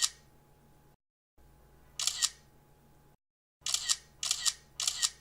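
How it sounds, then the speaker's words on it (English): An iPhone camera shutter sounds four times, crisp and close: one click alone, then three in quick succession, with no voices. "If you wanted to get this one right, you had to know that it was an iPhone camera shutter noise."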